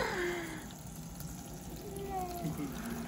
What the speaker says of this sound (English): now turn on the water